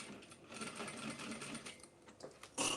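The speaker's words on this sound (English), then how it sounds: "So I'm going to use about 1/4 inch seam allowance" A sewing machine stitches a pant seam with about a quarter-inch allowance, running in a steady, close hum with small surges and a brief louder burst near the end.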